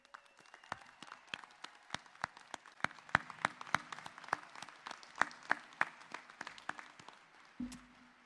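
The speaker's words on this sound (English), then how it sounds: "Let's give these graduates a round of applause." Audience applause for graduates at the 2022 Cape Fear Community College commencement ceremony, a steady patter of many hands with some louder individual claps standing out, fading near the end.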